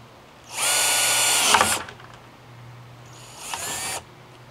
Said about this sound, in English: So we'll go ahead and drill.